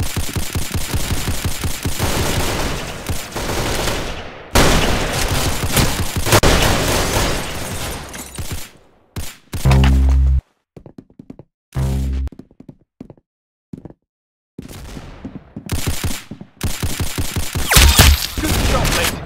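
Gunfire in the Roblox shooter Arsenal, with long stretches of rapid automatic shooting and explosive booms, then broken bursts and isolated shots separated by brief silences, loud and close throughout.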